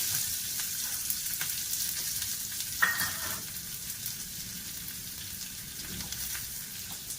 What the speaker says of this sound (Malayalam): അതിനി കടുക് എണ്ണ വെച്ചു, കടുക് ഇട്ടു.